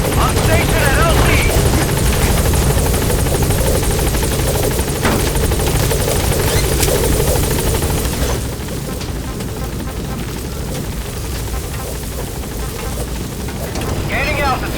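Helicopter from Metal Gear Solid V: The Phantom Pain, the B-Quad, arriving at a landing zone: a loud, steady rotor roar with dense low thumping for about eight seconds, then dropping a notch and continuing, with in-game radio voices heard over it.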